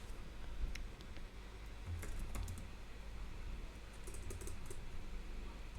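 Code is typed on a computer keyboard in rapid, uneven bursts of soft key clicks, close and fairly quiet over a low background hum.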